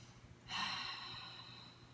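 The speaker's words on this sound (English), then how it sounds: "And breathe." A person exhales audibly during a yoga neck stretch, one long breath starting midway and fading slowly, close and fairly soft, alone with no talk.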